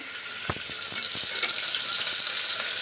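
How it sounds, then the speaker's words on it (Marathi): Sliced onion sautéing in a pan for veg pulao: a steady broad sizzle throughout, close and fairly loud, with a few soft stirring knocks near the start and no voices. "आता थोडेसे परतून घ्यायचे आणि ह्याच्यामध्ये लगेच कांदा टाकायचा"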